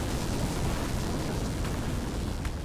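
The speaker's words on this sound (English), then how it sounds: "push the button, watch the fireworks." Fireworks launched from the lift rocket capsule in Deep Rock Galactic roar as a loud, dense, continuous rumble of blasts and crackles with no voices.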